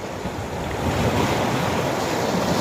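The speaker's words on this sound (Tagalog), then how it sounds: "Kitang-kita naman ninyo ang alon. At malakas." Strong surf rolls in steadily at a beach in Ternate, Cavite, a broad continuous wash of breaking waves with some wind rumble on the microphone, loud and unbroken with no voices.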